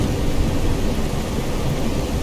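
Thunderstorm in the game Skyrim: a loud, unbroken roar of heavy rain with deep rumbling underneath, sustained evenly through the whole stretch with no talk.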